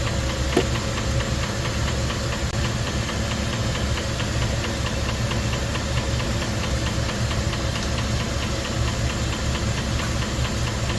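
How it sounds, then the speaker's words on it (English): A fast, steady mechanical ticking from a Rolls-Royce Silver Shadow's front hydraulic pump runs beneath a loud, constant engine drone and hum, with faint rattles throughout. "That ticking noise you can hear, I think,"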